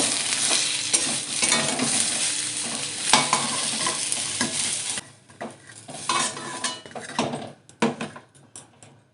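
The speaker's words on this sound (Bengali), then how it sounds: "বেগুনগুলো হালকা করে ভেজে নিয়েছি, তুলে নেব" Eggplant slices fry in hilsa fish oil in a pan, sizzling loudly while a utensil stirs and scrapes against the metal, then the sizzle drops away to sparse clinks and scrapes.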